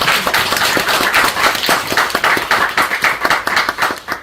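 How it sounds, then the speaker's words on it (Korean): A church book-concert audience claps loudly and steadily, the many hands settling into a brisk rhythmic beat with no talk over it. "박수 한번 주시죠"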